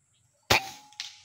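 A PCP air rifle fires a single sharp, close crack at a target 60 meters out, followed about half a second later by a fainter metallic tick as the shot strikes a small steel plate.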